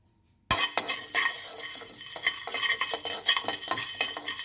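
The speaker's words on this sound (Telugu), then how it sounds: "ధనియాలు చెక్క లవంగ యాలకులు మిరియాలు కొంచెం సాజీర అన్నీ వేయించుకోవాలి" Coriander seeds, cinnamon, cloves, cardamom, pepper and a little caraway dry-roasting in a pan, stirred so they rattle and scrape steadily against the metal, close and fairly loud, starting abruptly after a brief near-silence.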